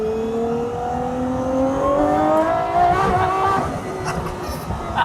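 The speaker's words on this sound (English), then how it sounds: "with induction noise, if you do it right, it's all controlled by your right foot" GMA T.50 V12 supercar engine at light throttle, around five to ten percent, its induction note rising in steady rising harmonic tones, loud and close, swelling then easing with faint road noise beneath; no talking.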